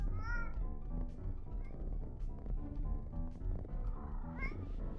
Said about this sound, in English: hearing faint cat noises all the time while I'm trying to play the game